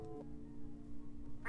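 A single nasal duck quack from the adventure game Sam & Max Hit the Road, short and fairly close over a low background hum, with no voices.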